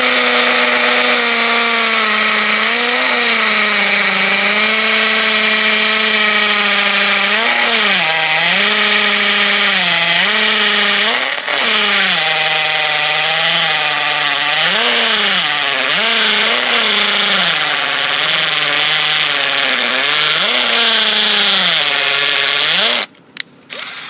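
A Milwaukee M12 or Hitachi 10.8V cordless hammer drill bores into concrete or brick with a loud, sustained motor whine. Its pitch dips and recovers repeatedly as the bit loads, and it stops at the very end.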